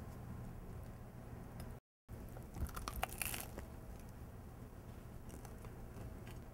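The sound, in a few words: biting and chewing a crunchy grilled sea scallop BLT sandwich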